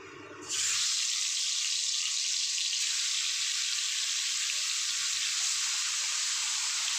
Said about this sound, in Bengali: ততক্ষণে তেল গরম হয়ে গেছে আমি মাছটা ভাজা বসিয়ে দিই